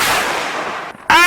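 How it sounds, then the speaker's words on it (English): A firework goes off outdoors with one loud sharp burst near the end, after a steady roar of noise and a brief drop into near-silence. "so now we are lighting off some fireworks."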